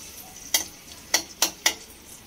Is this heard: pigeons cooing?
no